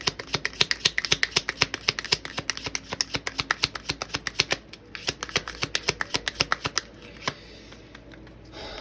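Tarot cards being shuffled and drawn: rapid, close riffling flicks in a steady stream, thinning out and ending with a few single snaps near the end.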